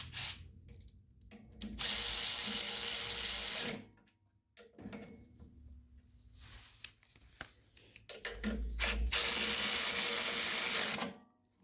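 A ratchet tightening the carburetor bolts on a Troy-Bilt walk-behind leaf blower, with two loud, close bursts of fast whirring clicks separated by quieter handling and clanks.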